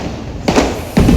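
Two firecrackers bursting at a home Deepavali celebration, a pair of sharp thudding pops about half a second apart, close and loud with no talk.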